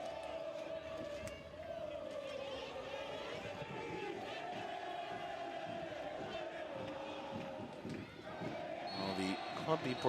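Club Deportivo Fas football fans in a stadium crowd at an ADM Perez Zeledon match create a steady, energetic roar of chanting and shouting, constant at moderate distance with a brief swell near the end.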